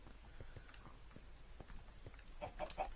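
Scattered soft clucks and short chicken calls from Minecraft chickens amid a busy low background, with a cluster of brighter squawks near the end.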